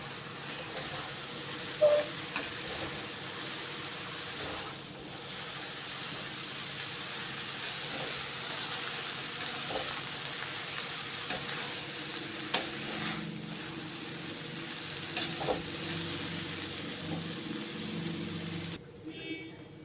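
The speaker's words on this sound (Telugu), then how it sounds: "ఇప్పుడు అన్నీ మంచిగా మిక్స్ అయ్యేలాగా మిక్స్ చేసుకుందాం." Mushroom noodles with vegetables, soy sauce and vinegar are stirred and mixed in a hot pan. A soft, continuous sizzle runs under scattered utensil scrapes and clicks, and a voice is heard at times.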